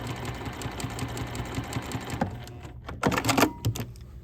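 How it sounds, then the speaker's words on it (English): A Juki TL sewing machine stitches a quarter-inch seam with a fast, even mechanical whir and rhythmic ticking that runs for a few seconds, then gives way to clunky handling noises. "So I'm gonna go ahead and sew."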